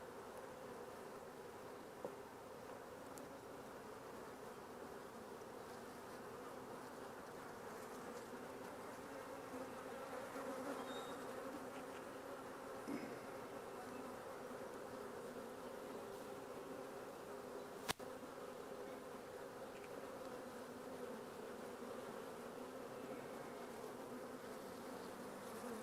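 Honeybees buzz inside an open hive box, a steady, continuous and fairly faint hum of many insects with no speech, broken only by a couple of tiny clicks.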